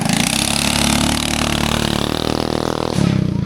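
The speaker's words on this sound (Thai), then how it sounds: "โอ้เสียงรถเล่าพิลึกแท้" A motorcycle engine runs loud and close in a remote forest village in rural Laos, with a rough, sustained drone that surges as it revs near the end, and no talk over it.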